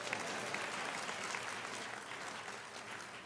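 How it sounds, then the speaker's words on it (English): An audience at a university presidential investiture ceremony claps in a soft, even wash of many hands, heard from a distance and fairly faint throughout, without speech. "You all can clap for that."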